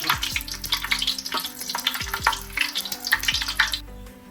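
Asafoetida dropped into hot coconut oil for a Kerala Onam sadhya sambar, giving a steady close sizzle and crackle with a few clinks of utensils against the pan.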